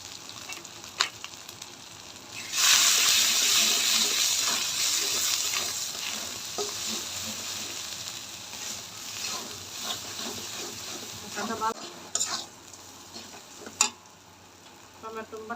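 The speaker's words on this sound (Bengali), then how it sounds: "1 চামচ মরিচের গুঁড়া, পরিমাণ মতো লবণ দিয়ে ভালো করে কষাই নেব।" Goldfish sautéing in a pan with chili powder, coriander powder and salt gives a steady loud sizzle, with a utensil scraping and stirring through the fry at intervals.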